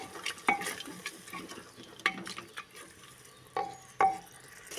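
Spices sizzle and fry in a pan for a potato and drumstick (sajne data) curry, with a spoon scraping and stirring at a few distinct moments over a steady low crackle.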